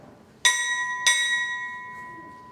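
At a Navy chief pinning ceremony, a ship's bell rings twice in quick succession, clear and bright, with both strikes ringing on and fading in a quiet room.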